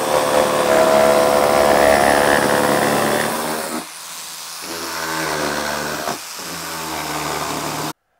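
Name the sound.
jigsaw cutting fir wood for a Warré beehive roof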